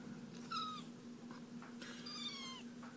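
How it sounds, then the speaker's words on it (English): A cat meows twice over steady low room hum, a short mewing call followed by a longer, wavering one, fairly close and moderately loud, with no talking. "there goes a shoulder kitty"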